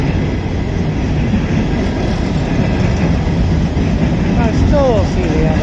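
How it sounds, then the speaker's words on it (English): A long train rolls past on the rails, loud and close, with a continuous heavy rumble, rhythmic wheel clatter and a few brief squeals. A person speaks over the noise. "I still don't see the end of the train."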